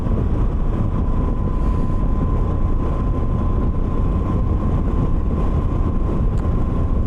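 A Moto Guzzi V85TT motorcycle riding at night, its steady engine drone blended with heavy wind rush at the helmet, continuous and loud without a break.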